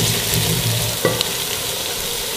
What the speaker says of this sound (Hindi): ये देखें, आपको बर्तन से नज़र आ रहा होगा कि काफ़ी फ्राई हो चुका है।